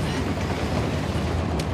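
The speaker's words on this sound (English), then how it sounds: "Commandeering a train?" A train rolls along in Uncharted: The Lost Legacy, its steady, dense rumble and clatter continuing without break at a fairly loud level.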